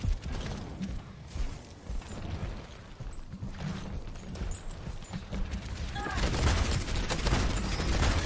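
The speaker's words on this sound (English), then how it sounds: "that hog is shooting your Ryan's shield" Roadhog's gun firing into Reinhardt's shield in Overwatch, heard as a dense, continuous clatter of gunfire and impacts within a busy game mix that grows louder over the last couple of seconds.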